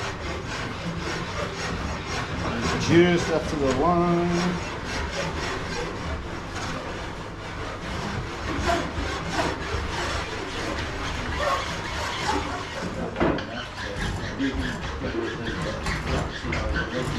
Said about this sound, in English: just going to use a little chainsaw file.